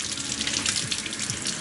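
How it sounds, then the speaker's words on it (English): Cold water running from a kitchen sink tap over steelhead fish fillets, a steady close splashing hiss that continues throughout. "I got the sink water running, as cold as it'll possibly get."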